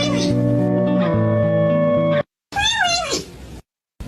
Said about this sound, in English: Kitties!